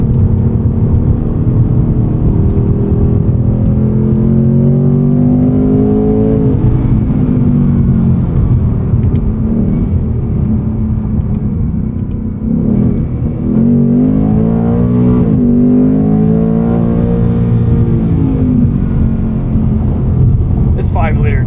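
A 2024 Ford Mustang GT coupe with its 5-liter V8 and 10-speed automatic, heard from inside the cabin on the road, revs rising and falling through the gears in a steady, close engine drone.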